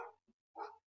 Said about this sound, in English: our dog barking there